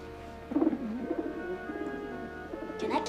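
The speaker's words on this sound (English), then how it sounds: "A pigeon." A pigeon on a city rooftop coos in soft, low, rolling phrases, close by and repeated over a few seconds, with no voices over it.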